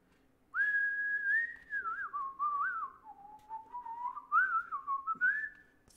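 A man whistles a gentle, wandering tune to himself while steering a sailing boat. The whistling is clear and close, running in long, sliding phrases with a few short breaks, and no one speaks.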